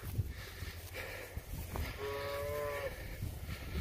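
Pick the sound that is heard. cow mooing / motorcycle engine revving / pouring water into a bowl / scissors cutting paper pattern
cow mooing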